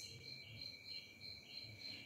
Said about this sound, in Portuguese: participação especial dos meus grilos